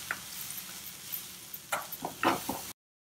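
Whole green moong sundal being stirred in a pan, soft sizzling under a few scraping spoon strokes and light clacks, fairly quiet and close, cutting off abruptly.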